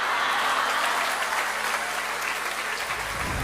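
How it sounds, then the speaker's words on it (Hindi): Dense applause from a large audience filling a hall in England, loud and sustained throughout, a continuous wash of clapping with crowd noise and no distinct speech. "कोहिनूर का नाम लेते ही इंग्लैंड का प्रजापति हॉल तालियों और खुशियों से झूम उठा"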